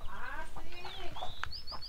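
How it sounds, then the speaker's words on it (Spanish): Turkeys gobble at a ranch in a series of short, close, warbling calls, with other fowl sounds and faint voices mixed in. "Por lo pronto están unos guajolotes."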